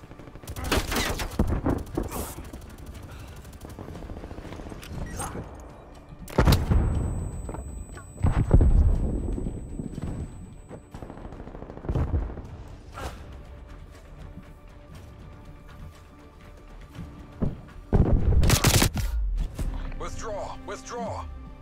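Gunfire in the shooter game Call of Duty: Cold War, with loud bursts of shots in clusters separated by quieter gaps and a player talking throughout.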